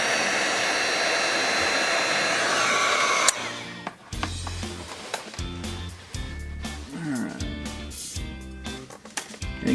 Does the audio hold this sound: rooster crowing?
no